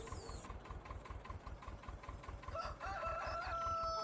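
A rooster crows in Farming Simulator 19 over a steady, rhythmic engine idle that pulses low throughout.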